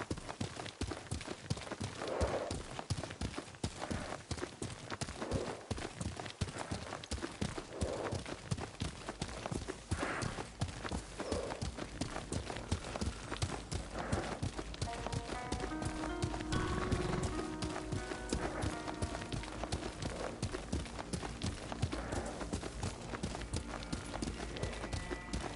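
A horse gallops in the video game Ghost of Tsushima: steady rhythmic hoofbeats run continuously over a constant ambient bed, with a brief tonal swell partway through and no talk in the clip.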